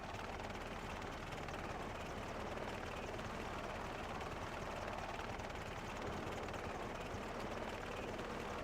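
Steady, close rotor-like drone of a flying mount carrying a player along a flight path to Karanos in World of Warcraft, a continuous broadband whir that holds at an even level with no speech over it.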